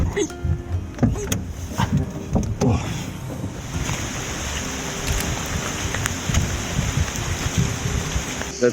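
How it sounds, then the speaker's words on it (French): Steady rain hisses on a surface, with a low engine-like rumble and scattered knocks and clatters close by. "La pluie aura tourné H24 durant notre descente"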